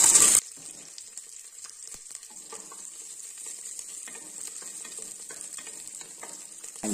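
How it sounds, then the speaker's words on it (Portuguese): Chopped green bell pepper and onion sauté in a pan, a soft steady sizzle with faint stirring scrapes, fairly quiet and close, preceded by a brief burst of hissing at the very start. "Aí aqui vou refogar até ficar douradinho."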